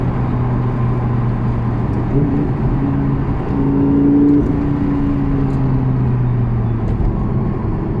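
Lamborghini Gallardo LP560-4 driving, a steady close engine drone from inside the car with pitch shifts as gears change partway through, a brief rise in revs, then settling again.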